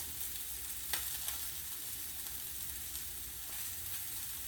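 Chicken breast fries in a pan with a steady, close hiss of sizzling oil, a few sharper pops and spits rising over the constant crackle, no voices.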